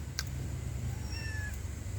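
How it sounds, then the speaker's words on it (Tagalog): Tikla, a pet cat on a small farm, lets out a short, thin meow that rises and falls, close but fairly quiet over steady outdoor ambience and a brief click. "Yan pusa ko si tikla."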